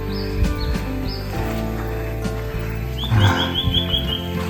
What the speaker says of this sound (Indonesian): sepertinya banyak burung-burung kutilang di sini teman-teman